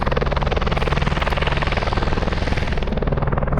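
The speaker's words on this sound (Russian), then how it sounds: "этот вертолет, он прям громкий вообще. Что-то он притащил какой-то груз сюда" A helicopter carrying cargo flies over alpine meadows, its loud rotor throbbing in a fast, even pulse that stays close and constant throughout.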